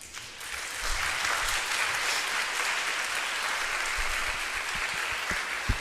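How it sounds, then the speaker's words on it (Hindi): Audience applause at a Dainik Jagran Samvadi talk by an Everest climber, a broad, continuous round of clapping that holds steady for several seconds and then tapers slightly. "इस चीज़ में ताली तो बिल्कुल नहीं बजनी चाहिए थी"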